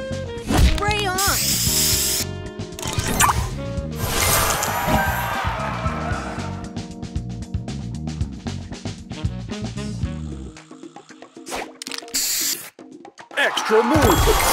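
Spray booster going off in a mobile puzzle game: a loud hissing spray burst amid bright chiming game effects and musical jingles, with a short game voice cue.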